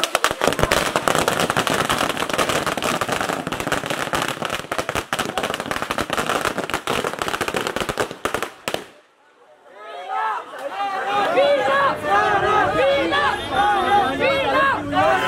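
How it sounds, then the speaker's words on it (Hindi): A long string of firecrackers pops in rapid, loud, crackling bursts outside Shah Rukh Khan's home Mannat, then cuts off briefly before fan crowd chatter and cheering take over. "और यहाँ देखिए पटाखा फोड़ने जा रहे हैं।"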